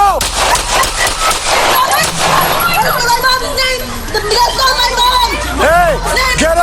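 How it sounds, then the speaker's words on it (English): Gunshots fired during a chaotic confrontation, sharp cracks buried under loud shouting and crowd babble, with sirens wailing through the scene. "Shots fired!"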